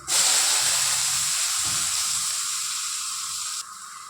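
Onion slices hitting hot oil with popped mustard seeds set off a loud, steady sizzle and hiss that starts abruptly and tapers slightly before a brief drop near the end.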